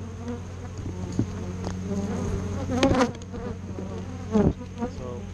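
Honey bees drone steadily around an opened hive super, a continuous close buzz with occasional louder passes as individual bees fly near.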